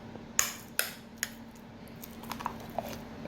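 Thick homemade vegan ricotta being scooped out of a container, heard as a few sharp clinks of a spoon against the vessel followed by softer scrapes and small taps, with a faint steady hum behind.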